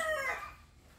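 A rooster crows once from a backyard brood coop, a fairly faint tonal call trailing off into quiet yard ambience.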